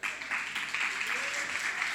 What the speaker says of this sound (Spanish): Por favor, un aplauso a Tony.